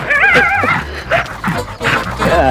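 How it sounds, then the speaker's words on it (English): A small dog whimpers and yips in a series of high, wavering whines with short pauses between them, loud and close, with no talk over it. "Bottles, stop doing that to that little dog."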